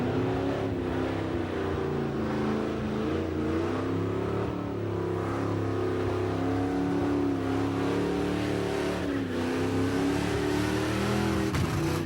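A Camaro at a Summernats burnout elimination revs hard and steadily, its engine note rising and falling with a slight flutter, loud and continuous with no one talking.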